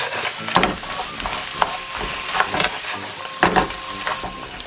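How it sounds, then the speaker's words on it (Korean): Crayfish being stirred in a pan of hot oil with mala spices, a steady sizzle broken by several sharp scraping and clattering strokes of the utensil, close and fairly loud. "가재 넣어주고 쭉쭉 섞어주세요"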